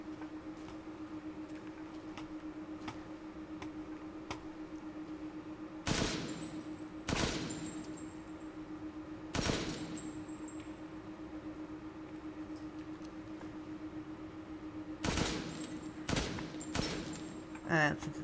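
Gunfire in Resident Evil Village, aimed at a Cadeau: several loud separate shots or short bursts, some paired, over a steady low hum and faint game ambience, with pauses between them.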